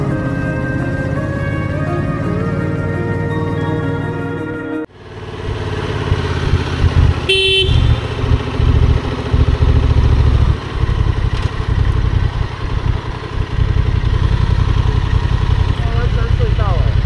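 Heavy motorcycle engine rumbling on the Central Cross-Island Highway mountain road in Taiwan, a loud, steady low drone close up that shifts and swells after a few seconds, with people talking over it.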